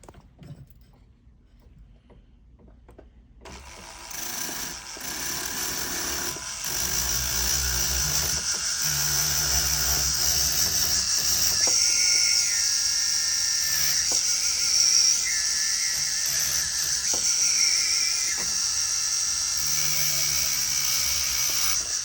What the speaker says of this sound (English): I'm going to switch to a grinder.